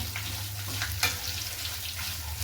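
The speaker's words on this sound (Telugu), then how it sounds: "ఇట్లా వేయించుకుంటా" Ingredients for tamarind chutney frying in a pan, a soft, steady sizzle under a low background hum, with one brief clink.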